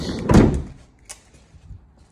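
Back door of a Ford Transit Custom van opens with a single loud mechanical clunk and latch release, followed by a few faint knocks and settling sounds.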